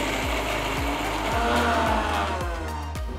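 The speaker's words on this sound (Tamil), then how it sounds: "இஞ்சி பூண்டு கொத்தமல்லி பேஸ்ட் அரைகிறதுக்கு மிக்சி ஜாரில் 10 பல்லு பூண்டு, 2 பெரிய துண்டு இஞ்சி நறுக்கினது, 1 கப் ஃப்ரெஷ்ஷான கொத்தமல்லி சேர்த்து அரைச்சிக்கோங்க" Kitchen mixer grinder jar grinding ten garlic cloves, two large pieces of chopped ginger and a cup of fresh coriander without water: a loud, steady motor whir with rhythmic thuds about every half second as the contents tumble.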